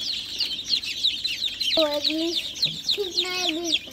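Country chickens cluck and squawk close by while being handled one at a time for Gumboro vaccination, with a steady high chirping of chicks behind them and a person speaking nearby.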